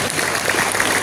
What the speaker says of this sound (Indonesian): Tepuk tangan untuk banser-banser kita.